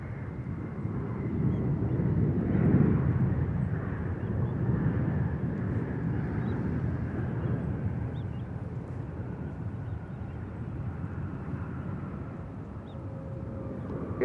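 An airliner lands on runway 28 left at San Francisco airport, a broad, distant roar of jet engines swelling then slowly fading under light wind noise.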